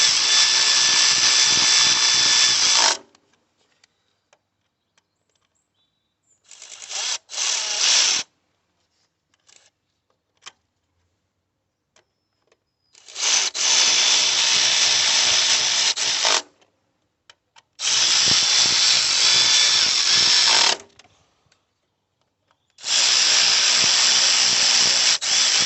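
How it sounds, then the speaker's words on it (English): Electric ratchet tightening bolts on a Ford Fiesta EcoBoost engine during a service, four loud close bursts of whirring of about three seconds each, separated by silent pauses with faint clicks. "if you've got an electric ratchet"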